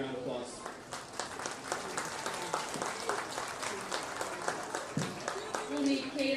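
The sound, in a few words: audience applause at show ring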